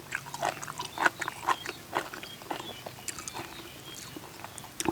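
Close, crisp crunching bites and chewing, repeated irregularly in quick succession, fairly quiet with no talking.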